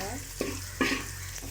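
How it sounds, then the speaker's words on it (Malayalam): Chillies frying in a pan give a close sizzle with a few sharp crackling bursts over a low steady hiss, brief and without talk. "മുളക് തവന്ന് വെന്ത് വരുന്നുണ്ട്"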